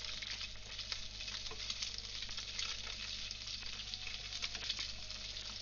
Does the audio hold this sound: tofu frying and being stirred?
yes